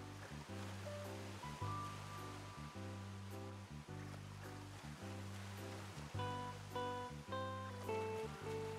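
A steady rushing waterfall in the Pokémon Scarlet & Violet video game, a continuous wash of water noise running under looping game music with bass notes and melodic chimes.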